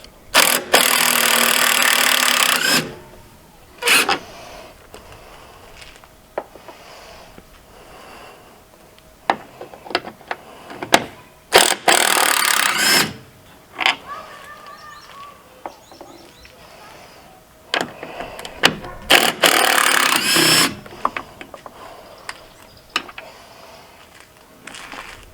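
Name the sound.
impact wrench driving bolts on Jeep headlight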